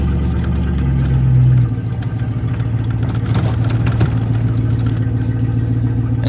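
A 1994 Chevy truck with a swapped 454 engine drives along, its deep engine rumble steady and close, with a brief louder low surge at the start and faint rattling throughout.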